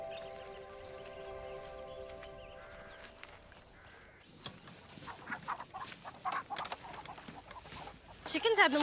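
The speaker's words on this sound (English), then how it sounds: "Chickens have been laying real good since you got here." Chickens cluck and squawk close by on a farm. A steady hum and some soft noises come first, then a busy stretch of scattered clucks builds up and grows louder toward the end.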